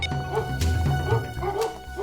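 Several Labrador dogs give short, repeated barks and yips close by, in a quick uneven rhythm with faint whimpering between them.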